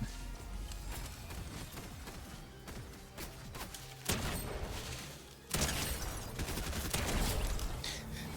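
Fortnite battle gunfire crackles in dense, rapid bursts throughout, with louder volleys breaking in near the middle and end over busy game noise.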